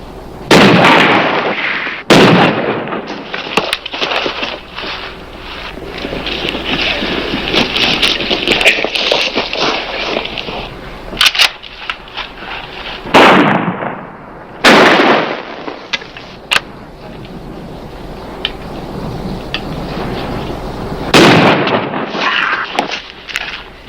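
Repeated shotgun and gun blasts in a western TV series shootout, several loud sharp bangs spread across the scene with steady noisy rumble between shots.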